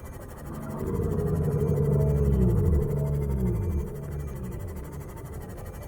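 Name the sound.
sea creature call from a video game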